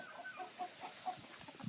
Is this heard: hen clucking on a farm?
yes